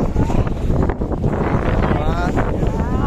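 Strong wind blowing by the Ganges river, buffeting the microphone with a loud, constant rushing roar that gusts slightly; a voice may be faintly present beneath it.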